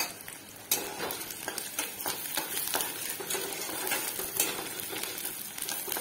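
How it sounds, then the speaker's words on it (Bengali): Three green chillies sizzle in a hot pan, a steady crackling fry with occasional sharp spits and light clinks of a spatula against the metal. "এই যে আমি তিনটে কাঁচা লঙ্কা দিয়ে দিলাম।"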